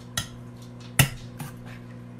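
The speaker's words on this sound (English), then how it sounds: "Mash some bananas with a potato masher." Bananas being mashed with a potato masher in a kitchen, three separate squishy thumps against the bowl, the middle one loudest, with a low background hum between them.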